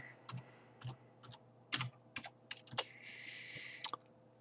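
Light taps of typing a search into a banking app on a phone, a short run of separate clicks with a brief steady tone near the end, close and fairly quiet with no talk.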